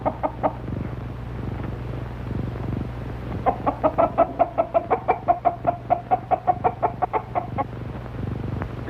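Hens cluck in a quick, evenly spaced run of about a dozen close, distinct clucks, with a few scattered clucks before it and a low steady hum underneath, as on an old film soundtrack.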